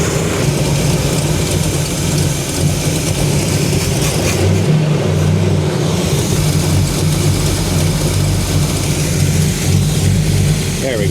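A 1979 GMC C35 truck engine, running a little rich, idles loudly and roughly up close, a deep steady rumble with a slight rise in revs partway through while its idle mixture is adjusted.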